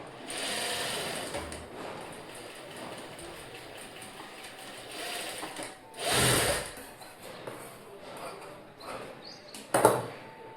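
A sewing machine runs slowly in short bursts stitching a stone-studded blouse, a soft mechanical whir and rattle with pauses between stitches, close by.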